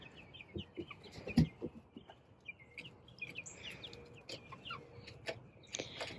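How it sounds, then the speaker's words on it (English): Chickens cluck and chirp at close range in a coop, pecking, with soft scratching and scuffling underneath and occasional louder squawks. "our lovely corner of the coop over here that our chickens are pecking at"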